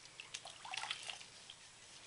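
A washcloth is rinsed under running water while bathing a baby, with soft quiet splashes and drips, faint and close.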